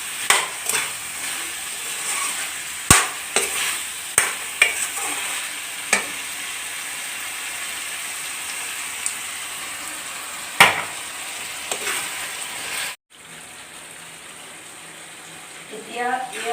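Jackfruit flower curry frying in a pan with a little boiled water added, a soft steady sizzle broken by scattered clinks and scrapes of a spoon stirring, ending in a quieter hiss.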